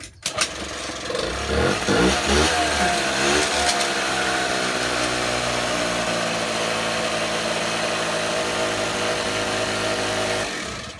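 Suzuki Lets scooter's small two-stroke engine starting up after a cylinder and piston replacement, a loud close buzzing run that revs up and then holds a steady high idle before cutting off.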